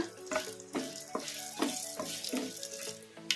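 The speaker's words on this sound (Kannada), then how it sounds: "ಈಗ ಸಾಸಿವೆ ಜೀರಿಗೆ ಫ್ರೈ ಆಗಿದ್ದಾವೆ" Mustard seeds and cumin sputter in hot oil in a pan, a close, steady sizzle broken by several sharp crackling bursts and stirring scrapes.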